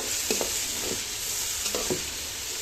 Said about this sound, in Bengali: মাংসটাকে কষাই নেই